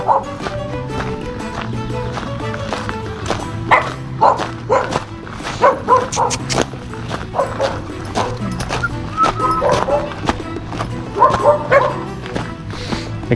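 A dog barks repeatedly in uneven bursts, some sharp yips among the louder woofs, fairly close over a quiet outdoor background.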